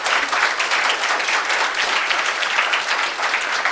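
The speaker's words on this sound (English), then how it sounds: "give another massive round of applause to Karl Bittner for this presentation" An audience applauds steadily after a conference presentation on large-scale vegetation rendering, a dense, even clapping that holds at the same level throughout with no voices over it.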